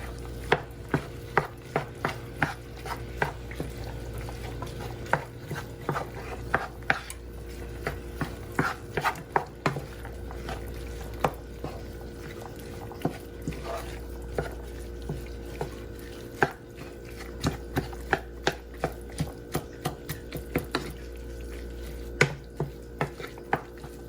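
Homemade spaghetti sauce with green peppers and onions is stirred in a pot, giving a long run of close, irregular scraping and clacking knocks from the spoon against the pot, with no voices.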